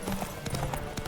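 Horse hooves clop quickly and rhythmically on a road in The Witcher 3 video game, a brief fast gallop mixed with game ambience and no speech.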